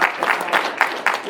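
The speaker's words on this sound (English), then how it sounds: "Give the family a round of applause, too" A school board meeting audience applauds a family, with brisk, uneven clapping from a modest group of people in a room, a few louder claps standing out.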